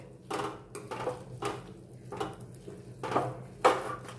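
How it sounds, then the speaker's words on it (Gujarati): Edible gum mixture being stirred in a pan over low heat, with a spoon scraping and knocking against the metal in repeated strokes, close and fairly quiet, with no voices. "સરસ બધું મિક્સ કરી લઈશું થોડી વાર આપણે ચલાવીશું એટલે ગુંદર સરસ થોડો પાકી જશે"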